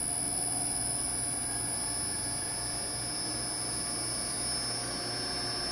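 An electric motor runs at full speed on a frequency inverter set to 60 Hz, giving a steady, even hum with high-pitched electronic whine, constant and alone with no talking.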